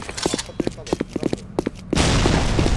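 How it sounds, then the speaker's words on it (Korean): A grenade is thrown and explodes in a video game: short sharp bursts that sound like gunfire or thuds give way to a loud, sudden blast whose roar holds on and fills the rest of the moment. "임무를 성공적으로 완수할 수 있도록 수류탄 투척!"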